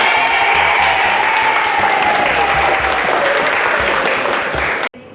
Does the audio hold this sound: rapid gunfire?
no